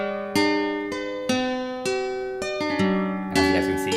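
A sampled acoustic guitar from a demo library expansion plucks a series of ringing notes and chords, each decaying before the next, ending with a brighter strummed flurry, clean and up close without any talking.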